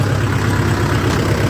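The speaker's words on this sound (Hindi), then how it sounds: "कितनी आसानी से हमारा जो ट्रैक्टर है वो चल पड़ा है" A tractor engine runs steadily in first gear at about 1200 rpm while pulling a reversible MB plough through a field, a close, continuous low rumble with no talk over it.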